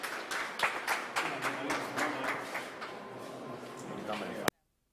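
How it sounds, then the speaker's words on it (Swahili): A crowd claps together in dense, sustained applause for a president at a school opening, with scattered louder claps, cutting off abruptly into silence. "Tumpigie makofi tafadhali. Makofi kwa Mheshimiwa Rais."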